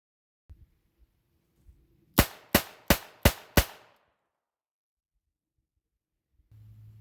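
Five sharp gunshots from a Smith and Wesson Model 60 revolver fired from the hip ring out loud and close in an evenly spaced burst, with faint handling noise before and a low rumble after.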